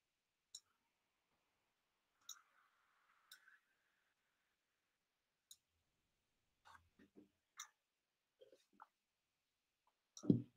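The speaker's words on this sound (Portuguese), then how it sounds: "Vou pressionar qualquer tecla aqui." Keys pressed on a microcontroller's matrix keypad give about a dozen faint, sharp clicks at uneven intervals across quiet gaps, ending in a slightly louder thump.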